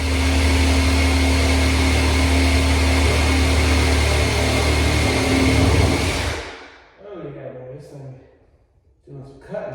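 Loud, steady power-saw whine with Harbor Freight blades, running continuously for about six seconds before cutting off abruptly, leaving quiet room sound and faint movement.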